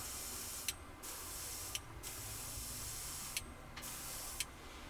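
A compressor-fed spray gun sprays very thin paint at low pressure over a masked-off Dodge Dart, a steady soft hiss broken by several short sharp bursts as the trigger is pulled and released.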